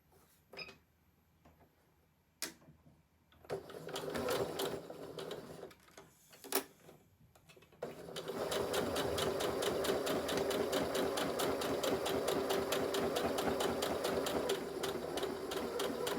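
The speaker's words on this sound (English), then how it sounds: "Right, we need to sew all the way down this side." A sewing machine runs in short bursts and then steadily, stitching down the side of a fabric phone wristlet purse made from scraps; a rapid, even chatter fills the second half, close and moderately loud.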